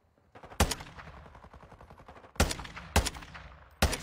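Gunfire in Call of Duty: Modern Warfare II, with a rapid rattling burst of shots followed by several loud, sharp separate blasts spaced about half a second apart, all close and without talk.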